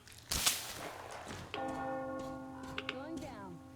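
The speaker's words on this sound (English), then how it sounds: "You hear that bell?" A bell in the video game Metro Exodus strikes with a sharp onset, then a long sustained ringing tone with clear harmonics follows and slowly wavers over a low game ambience.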